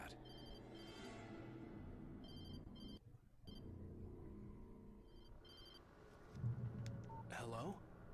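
A phone rings in the video game Alan Wake, heard as a repeating electronic ring over a low rumbling ambience, fairly faint, with a brief louder burst near the end.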